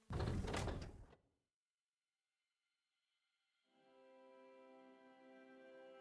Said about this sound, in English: Locked door that we can't get into.